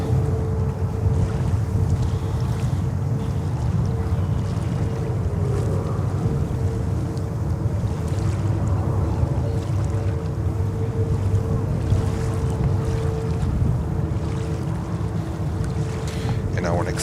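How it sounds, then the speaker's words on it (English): Amazon Air cargo jet taxiing at JFK airport, a steady low engine rumble with wind buffeting the microphone, continuous and fairly loud throughout. "Amazon Air taxiing to the cargo area."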